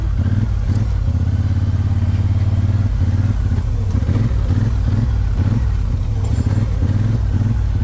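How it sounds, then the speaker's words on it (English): A four-wheeler ATV working a field engine runs rough, a close, continuous low chugging throb with uneven pulsing and no voices over it. "Four-wheeler's not running the best here."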